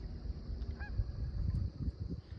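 One faint goose honk sounds briefly over low outdoor rumble and wind, distant and soft.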